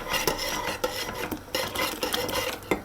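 A small cup scoops and stirs bone broth in a cooking pot, giving repeated scraping, rasping and light clinking strokes in a steady rhythm, close and moderately loud with no talk.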